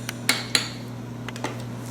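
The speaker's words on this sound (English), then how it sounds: "we will spoon these into the ramekins" A spoon scrapes and knocks against ramekins as broccoli timbale mixture made with heavy cream is ladled in, giving a few sharp ceramic clinks spread over a steady low hum in a quiet kitchen.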